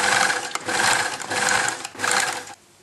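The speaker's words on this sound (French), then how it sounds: "Donc on termine maintenant la couture." Sewing machine stitching a seam on a dress, running in three steady whirring bursts with short pauses between, then falling quiet at the end.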